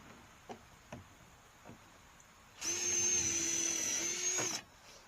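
A few light taps, then a power drill whirs loudly for about two seconds drilling a pilot hole for a mailbox, its motor pitch steady before dipping briefly and stopping.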